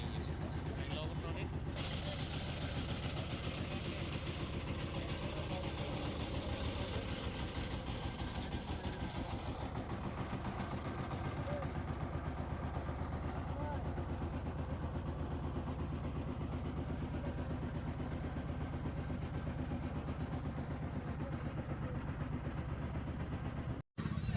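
A fishing boat engine runs off Saint Martin island in the Bay of Bengal, a steady, close mechanical drone that holds throughout with faint voices in the background.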